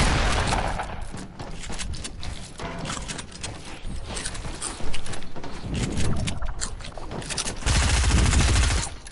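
Gunfire in a video game shootout with a shotgun nearby, dense rapid bursts and clattering shots layered over loud game noise, continuous and busy throughout.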